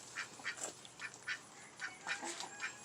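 Several ducks quack in a loose, overlapping series of short nasal calls, fairly faint and nearby, with no talking.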